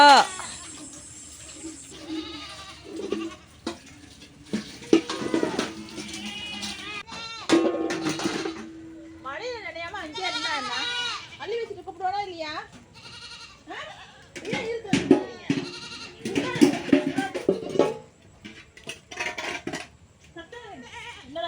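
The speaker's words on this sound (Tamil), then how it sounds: "அது நம்ம காலைக்குட்டி கத்துது பாருங்க" A young goat bleats repeatedly in wavering, nasal cries at a rural livestock farm, close and fairly loud. People talk in between, and faint clinks of dishes or metal sound nearby.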